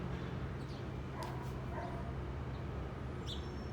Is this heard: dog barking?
yes